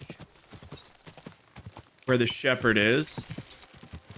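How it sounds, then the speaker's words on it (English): Rhythmic clip-clop of horse hooves at a quick gallop through the countryside in the video game Kingdom Come: Deliverance 2, with a person speaking briefly partway through. "just galloping through the countryside"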